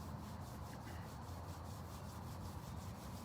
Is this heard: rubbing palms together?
yes